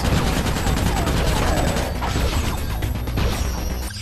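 Rapid rifle fire and clattering mechanical weapon noise from the video game Ratchet: Deadlocked, a dense, continuous barrage of loud shots and metallic whirring with no gaps, dense and close throughout.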